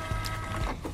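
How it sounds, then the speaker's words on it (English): A printer connected by USB runs a print job, giving off a close mechanical whir and a steady motor drone with brief feed clicks, continuous for about a second. "Soon, the printer will print what I printed off the Alphasmart."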